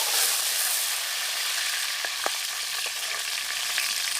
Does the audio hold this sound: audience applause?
no